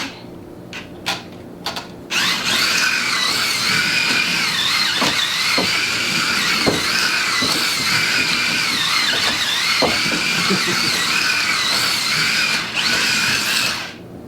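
A Lionel Mega Tracks toy train runs at full throttle, a loud, steady motor whine with rattling clatter that holds for about twelve seconds after a few short bursts at the start.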